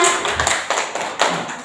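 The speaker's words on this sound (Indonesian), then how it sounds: "terima kasih tepuk tangan untuk Bapak Martin" Brief clapping from the audience for Bapak Martin at a school session at SMAN 1 Kupang: a close, steady run of distinct claps lasting under two seconds.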